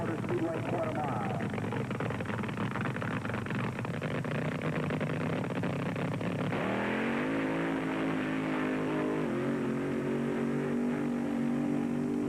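A nitromethane-and-alcohol Funny Car drag racer of about 3,000 horsepower roars at the Ontario Motor Speedway quarter mile in 1970, a loud, continuous engine howl that rises in pitch under steady announcer talk.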